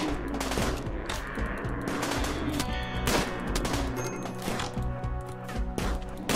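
Rapid automatic gunfire and shots in the colony-building video game Rimworld, dense overlapping bursts continuing almost without pause, loud and close.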